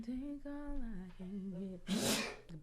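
A single loud, close sneeze bursts out near the end, just after someone speaks a short line in a casual live setting.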